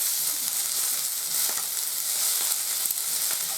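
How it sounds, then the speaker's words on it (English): Vegetables stir-frying in a hot pan for a noodle dish, a steady close sizzle with occasional stirring scrapes and taps, heard alone with no talk. "So you kind of you stir fry vegetables."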